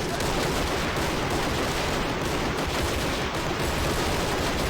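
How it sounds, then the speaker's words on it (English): Lewis machine guns fire in the toy-soldier war game Army Men of War, a continuous dense clatter of automatic gunfire with overlapping bursts and no pause. "Got some Lewis machine guns as well,"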